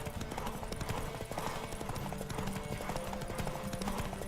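A horse gallops in The Witcher 3, and its hooves clip-clop in a fast, steady rhythm during a race. The hoofbeats stay close and fairly loud over a dense game background.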